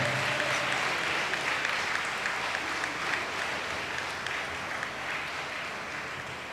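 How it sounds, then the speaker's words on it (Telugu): Audience applause at a religious guru coronation ceremony in Visakhapatnam: a dense, steady wash of clapping from a large crowd that carries on for the whole stretch, easing off only slightly toward the end. "గట్టిగా చప్పట్లు కొట్టి అభినందనలు తెలుపుదాం."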